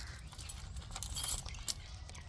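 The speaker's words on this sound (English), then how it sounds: "So I've got a bunch of keys here." A bunch of keys for a Toyota Land Cruiser 1HDFTE being handled, giving light metallic jangling and clinks up close, faint and brief, with no talk.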